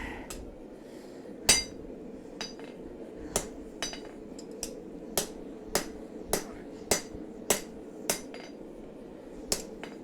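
Sharp metallic hammer strikes ring out at a steady, evenly spaced rhythm as a blade edge is forged and set, each blow bright and distinct over a low workshop hum.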